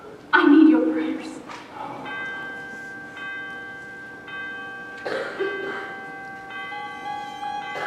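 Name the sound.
cathedral church bell ringing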